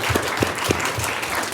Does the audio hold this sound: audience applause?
yes